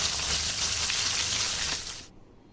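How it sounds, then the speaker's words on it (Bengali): Fish frying in oil in a pan in a home kitchen, a dense, loud, steady sizzle heard up close that cuts off abruptly near the end, with no voices. "তারপরে এই যে মাছটা ভেজে নিলাম।"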